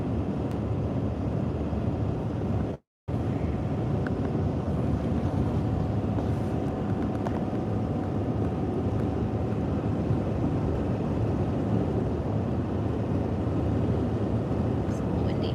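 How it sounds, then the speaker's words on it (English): Steady wind roar buffets the car while driving along a Tennessee road, a dense continuous rush that fills the cabin with only a brief dropout partway through. "It's windy."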